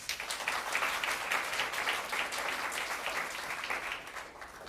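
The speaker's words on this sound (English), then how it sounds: "Let's give them a round of applause." A workshop audience applauds in a steady, dense wash of many hands clapping, even and sustained at moderate volume with no voices over it.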